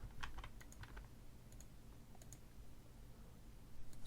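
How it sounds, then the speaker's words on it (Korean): Computer keyboard typing while saving a new VI in LabVIEW with Ctrl+S: scattered light key clicks in small clusters, faint and close, with no talking. "랩뷰에서 새 VI에서 컨트롤 S를 눌러서 저장을 하시고 경로를 붙여넣기 하시고"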